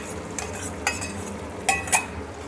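A spoon stirring whisked room-temperature yogurt into oily masala paste in a pan for paneer korma, soft scraping with a few sharper clinks against the metal, close and moderately loud.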